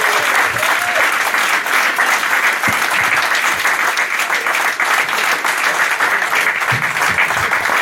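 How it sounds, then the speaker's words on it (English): A crowd at an annual general meeting applauds loudly and continuously for a group of girls, a thick, sustained roar of clapping that stays level for several seconds. "Can we have an amazingly big round of applause for those girls?"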